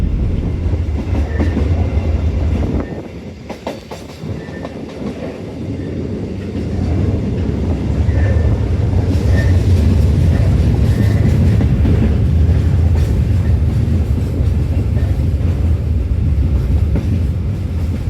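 A coal freight train in Sumatra, Indonesia rumbles loudly along the rails, heavy wheel noise swelling and holding steady, with occasional clanks and a rhythmic clatter.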